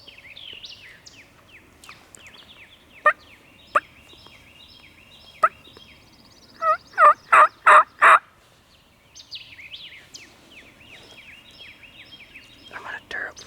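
A wild turkey gobbles in a quick burst of loud, rolling calls, surrounded by sparse distant clucks and softer bird calls in a quiet outdoor hunting setting, with faint whispering at times.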